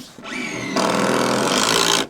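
A power driver whirs briefly, then drives a screw into the timber top of a garden room wall frame with a long, steady, loud buzzing grind lasting over a second.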